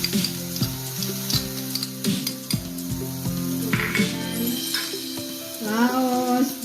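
Ground chili paste with galangal, ginger and coriander sizzles in a pan over medium heat, a steady close frying hiss with utensil scrapes and stirring clatter, and a voice speaking over it.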